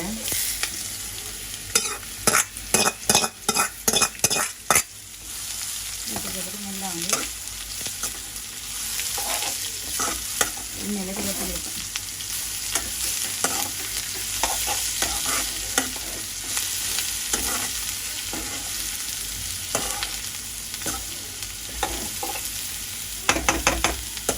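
Beetroot stir-fried with spice powder in a pan: a burst of sharp rhythmic spoon scrapes and clanks against the pan early on, then a steady loud sizzle with intermittent stirring scrapes.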